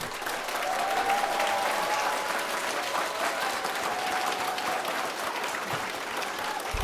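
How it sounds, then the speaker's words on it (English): Steady applause from an audience fills the whole stretch, dense clapping at an even level with no talking. "remind the audience to keep the applause short"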